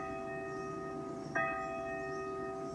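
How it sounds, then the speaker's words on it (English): Church bells ring faintly in the distance as sustained, humming tones. A fresh strike lands midway through and renews the ringing. "Amber, do you think those were church bells just now?"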